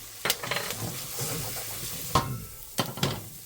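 Onion, garlic and cumin fry over medium-high heat in a pot, a soft close sizzle broken by a few sharp stirring knocks and scrapes of the spoon.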